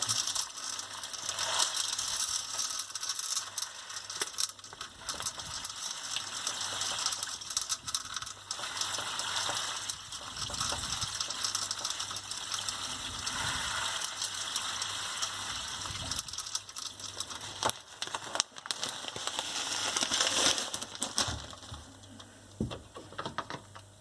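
Coarse dishwasher salt pours into a dishwasher in a continuous gritty rattle, quiet and close, with small crackling surges and no talking.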